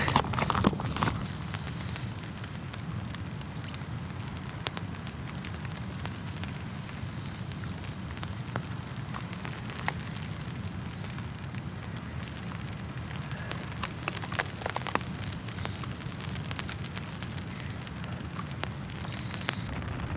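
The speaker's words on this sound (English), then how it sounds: "the rain's now starting to get just a little bit heavier" Rain patters steadily on a tent while camping, a continuous soft drumming with scattered sharper drops, close and even throughout, growing slightly heavier.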